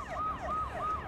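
An ambulance siren wails in the Watch Dogs video game, a close, steady two-tone yelp cycling about three times over low traffic rumble.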